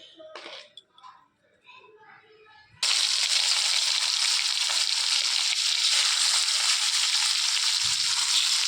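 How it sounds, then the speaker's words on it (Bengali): Salted, turmeric-coated snakehead fish pieces dropped into hot oil, brief talk and clatter giving way to a sudden loud, steady hissing sizzle that continues close up to the end. "মাছগুলো এবার ভেজে নেব ভালো করে।"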